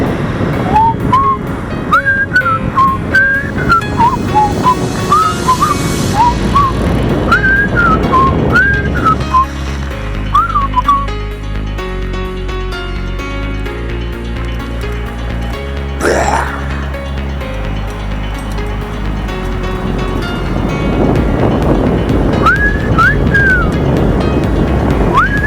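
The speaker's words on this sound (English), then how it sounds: "Andy Griffith whistle." A person whistles the Andy Griffith theme while riding an e-bike through a tunnel on the Mount Vernon Trail. The bright, echoing melody comes in short phrases over steady wind and road rumble, pauses in the middle, then returns near the end.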